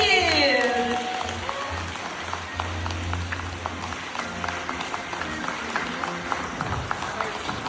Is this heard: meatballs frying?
no